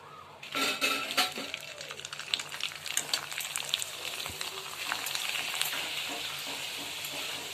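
Ragi papad deep-frying in oil while a festive Akshaya Tritiya offering meal is cooked, giving a steady crackling sizzle with a few metallic clinks of utensils near the start.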